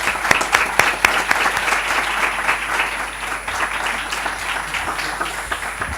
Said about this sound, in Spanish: Un aplauso para él, ¿no?